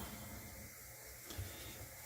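A toilet tank refilling after a leak repair, a faint, steady hiss of running water with a small bump partway through, no voices.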